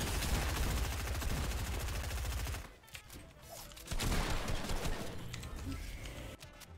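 Rapid video game gunfire crackles in a loud sustained burst, cuts off briefly, then resumes as further shooting mixed with game effects.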